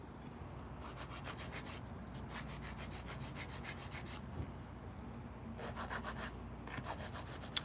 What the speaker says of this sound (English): You can use your sanding band and just lightly taper in the side of the